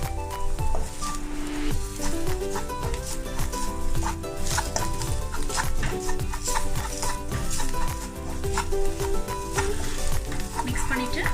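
Spoon stirring turmeric and chilli into sautéed curry leaves in a hot pan for curd kuzhambu, with continuous sizzling and frying, and repeated scraping and clinking strokes throughout at close range.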